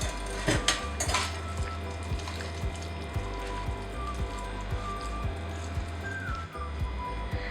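Chicken pieces for kuzhi manthi being mixed with marinade and food colour in a bowl, with repeated soft wet squelches and clinks of utensil against the bowl at a steady rhythm, close and fairly loud, no talking.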